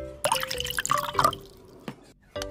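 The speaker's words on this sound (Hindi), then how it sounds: "और डालेंगे थोड़ा पानी।" Water is poured for a turmeric and hand wash acidity experiment, giving a few splashy drips and trickles in quick bursts at close range, with no talking.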